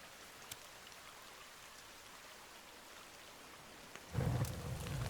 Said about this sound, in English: Oh, the rain put the fire out.